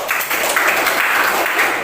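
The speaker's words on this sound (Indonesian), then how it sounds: "Kita kasih aplaus ke sini." Audience applause fills an Indonesian high school history classroom, steady dense clapping for the full moment with no pauses.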